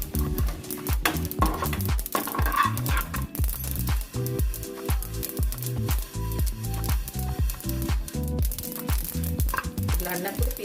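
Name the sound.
sesame seeds frying and popping in a pan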